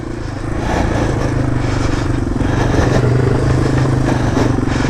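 Yamaha TW200 motorcycle on Kenda K257D tires riding through sand, its single-cylinder engine a steady, loud, close drone that swells slightly as it pulls along, with no voices over it.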